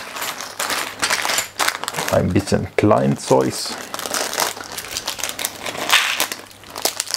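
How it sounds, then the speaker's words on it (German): A plastic bag of model submarine kit parts is opened and rummaged, giving bursts of crinkling and rustling with small clicking pieces, while a person speaks briefly in the middle. "öffne die letzte Tüte mit der Nummer 3"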